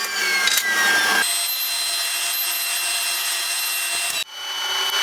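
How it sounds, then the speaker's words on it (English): A jointer edge-joints walnut boards with a loud, sustained whirring cut, a brief change in pitch near the start and a short drop before it resumes. "And then it's back to the jointer to edge joint each board."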